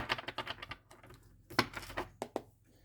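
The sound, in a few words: shuffling two decks of cards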